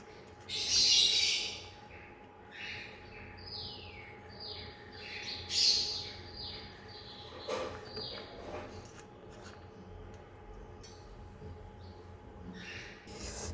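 Pet cockatiels calling near at hand during feeding with soft food, a series of shrill rising chirps and squawks, with two louder bursts early on and scattered calls throughout.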